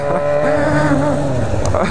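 A Honda Hornet and a Yamaha FZ6 motorcycle race side by side, one engine revving hard with rising, sweeping pitch, loud and close, while people talk over the roar.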